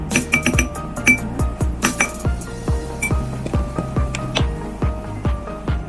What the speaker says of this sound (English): Then we stir until mix together